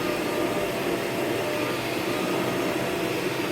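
A vacuum cleaner runs steadily indoors, a loud, continuous whooshing roar with no break or change across the whole stretch.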